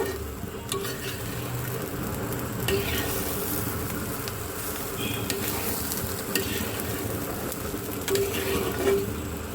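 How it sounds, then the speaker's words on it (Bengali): Rice sizzles steadily in hot oil in a pan while being stirred, with scraping strokes over a continuous frying hiss. "দেখো আমার চালটা কিন্তু খুব সুন্দর করে ভাজা ভাজা হয়ে গেছে"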